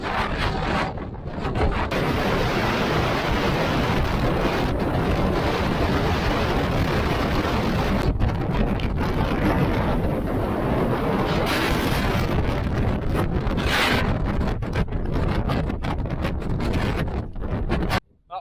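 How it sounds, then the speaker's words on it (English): Strong gale-force wind roars across a mountain summit in the Carneddau, a loud, continuous buffeting rush hitting the microphone with gusts that surge and ease, close and unbroken for most of the stretch. "Wild and windy summit then was Fallgrach"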